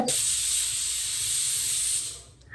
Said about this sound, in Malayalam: അന്നിപ്പോ നമ്മള് ബീഫ് വേവാൻ വേണ്ടി കുക്കറിൽ വെച്ചിക്കണേ. കുറച്ച് ഫിസിലടിച്ചാൽ റെഡിയാവും